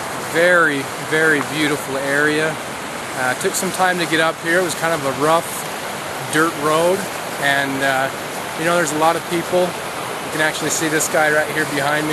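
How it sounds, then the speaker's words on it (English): A river rushes steadily close by along a mountain day-hike trail, a continuous broadband wash sitting under someone talking almost throughout. "You can probably hear the river behind me."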